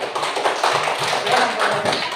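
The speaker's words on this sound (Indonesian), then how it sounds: "Beri tepuk tangan kepada kelompok 1" Classmates clap for a presenting group in an Indonesian classroom, a close, uneven run of rhythmic hand claps with soft taps and thuds, fairly loud and without talk.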